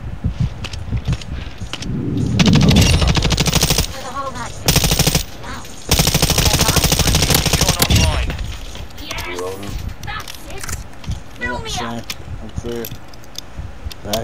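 LMG machine gun firing in Call of Duty DMZ, loud sustained bursts of rapid automatic fire with short gaps and mechanical rattling, while a person talks throughout.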